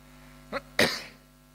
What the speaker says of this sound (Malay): batuk Mekah tak habis lagi.